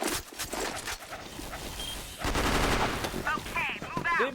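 Gunfire in the video game CrossFire on the Compound map, rapid bursts of automatic shots sounding loud and dense throughout, with players talking over the shooting.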